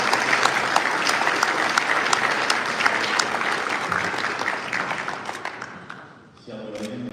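Sustained applause from a graduation ceremony audience, dense and steady for several seconds before tapering off, followed by a brief stretch of quieter room sound.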